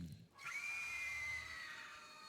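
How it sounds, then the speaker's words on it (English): A single drawn-out scream in the medieval tactical game King Arthur: Knight's Tale, a sustained high wail lasting over a second before fading, clear and alone. "Scream."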